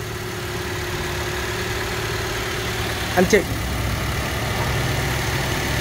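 A used 2008 car engine idles with a smooth, steady low hum throughout, heard up close, while someone speaks briefly.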